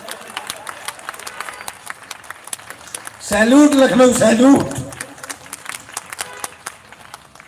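Applause and cheering from a live audience at a comedy stand-up show in Lucknow, a loud swell of clapping lasting about a second and a half between stretches of a man's joking speech.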